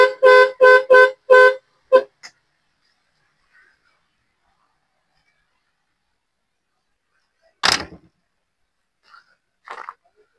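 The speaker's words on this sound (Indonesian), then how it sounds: "kemudian klakson juga dua lur" The dual horn of a 1985 Suzuki Carry van gives four quick, loud honks in a row, then one shorter toot, followed by quiet with a few faint knocks.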